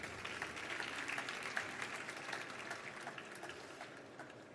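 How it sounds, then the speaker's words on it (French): An audience claps steadily at a ChangeNOW 2024 music talk, a soft continuous patter of many hands heard from a little distance, fading slightly toward the end. "qu'on peut déjà applaudir s'il vous plaît"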